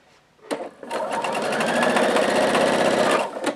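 A sewing machine stitches patchwork pieces at a quarter-inch seam, running in one fast, steady, close burst of rapid needle clatter for about three seconds, with brief taps before and after.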